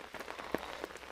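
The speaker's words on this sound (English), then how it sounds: "The atmosphere is a little bit scarier when it's raining" Rain patters on surfaces in an empty cemetery. The light, scattered drops are soft and close, with a few sharper taps.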